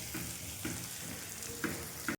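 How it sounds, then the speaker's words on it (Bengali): Onions frying in oil as a base for a meat curry, a steady close sizzle with a few light stirring scrapes of a utensil against the pan. "আর এখানে মাংসের জন্য পেঁয়াজ ভাজা হচ্ছে"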